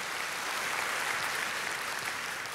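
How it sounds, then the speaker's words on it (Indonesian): An audience in a church fills the space with dense, steady clapping that holds at an even level from start to finish. "kalau mau tepuk tangannya meriah dong saudaraku"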